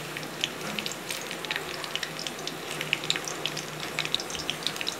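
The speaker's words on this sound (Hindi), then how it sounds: "तेल हमारा गर्म हो चुका है, अब इसमें हम गार्लिक डालेंगे, लहसुन, इसे 2 मिनट फ्राई होने देंगे" Garlic and green chilies fry in hot oil for Chinese fried rice, giving a dense, even sizzle with fine crackling pops throughout, close and steady with no voices.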